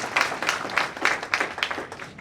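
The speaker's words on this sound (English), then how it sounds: "Clap for him for a second, please." An audience at a youth town hall meeting claps for a few seconds. The clapping is moderately close and uneven, with bursts that rise and fall, and no talking over it.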